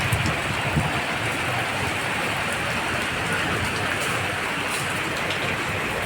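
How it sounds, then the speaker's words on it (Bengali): Heavy rain pours down steadily at an open market, making a dense, loud hiss that lasts the whole time. No voices can be heard over it. "দিন কি পরিমাণ বৃষ্টি দেয়"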